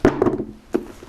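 A heavy hardbound book with solid binding being pulled from a box, a few close dull thunks and scraping knocks in quick succession, then a second brief thump, with no talking.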